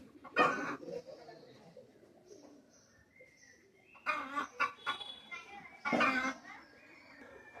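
A pair of Pakistani high-flying pigeons, male and female, coo and flutter nearby in three short bursts, with quieter murmuring and voices in the background between them.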